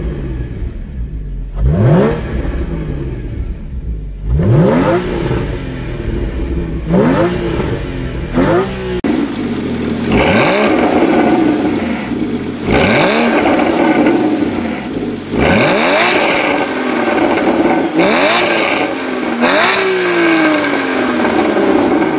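A Porsche with its exhaust valves open and its engine fully warm revs hard into the rev limiter again and again, each loud, close burst climbing sharply, bouncing off the cutoff and falling back.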